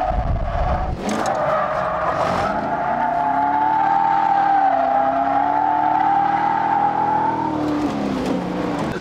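A stock LS2-powered 2005 Corvette base drifts at a racing park, its engine holding a loud sustained roar with rising and falling pitch while tires squeal steadily throughout, close and without talk.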